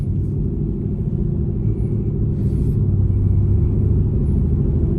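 A Cadillac CTS-V with over 600 horsepower rumbles along on the road, its engine holding a deep, steady, loud drone throughout with no talking.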